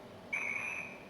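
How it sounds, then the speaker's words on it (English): A guard's whistle from a Hornby R3286TTS BR Class 40 model locomotive sound decoder, one sustained shrill tone lasting about half a second, clear and steady over a quiet background hiss. "We'll do the Guard Whistle."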